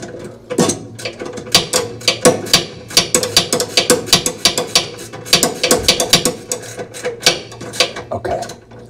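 Rapid ratchet clicks in repeated bursts as bolts are tightened on the brake assembly of a Speed Queen washer during a brake pad replacement, close and fairly loud with a steady hum underneath.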